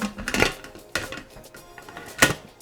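A large, heavy-duty pressure cooker once used in a professional Michelin-starred kitchen has its metal lid fitted on, giving a few sharp clanks and scrapes of metal on metal spread over a couple of seconds, close by and moderately loud.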